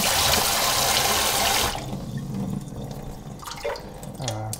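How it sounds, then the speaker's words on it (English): Tap water rushes loudly over rice in a strainer at a sink, then cuts back to quieter trickling, drips and wet rattling as the grains are rinsed. "I completely drain the rice with one of these strainers, rinsing it off with a sink."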